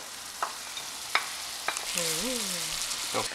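Bacon and onions fry in a pan for carbonara, a steady soft sizzle with a few faint utensil taps over it and a brief tonal squeak partway through.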